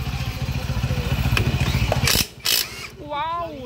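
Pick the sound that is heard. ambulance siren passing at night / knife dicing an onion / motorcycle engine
motorcycle engine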